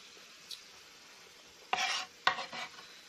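Quiet sizzling of onion and ground meat for sloppy joes frying in a pan, with a few louder clattering bursts of stirring or food being tossed in, no voices.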